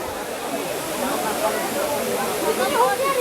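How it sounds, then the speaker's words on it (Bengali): Water pours down several spots on a rocky hillside at Baraghaghra waterfall in Odisha, a broad steady rushing roar, with a person talking over it. "এই জলটা আরও কয়েক জায়গা থেকে পড়ছে"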